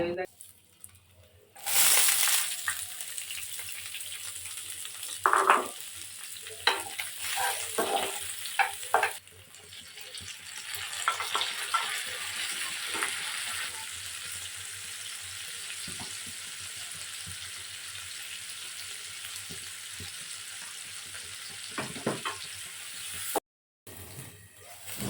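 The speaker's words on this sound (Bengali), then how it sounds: "হলুদ মরিচ দিয়ে ভালো করে কষিয়ে নিয়েছি।" Spices with turmeric and chili fry in a pan, giving a steady sizzle with bursts of stirring and scraping throughout, loud at first and then settling.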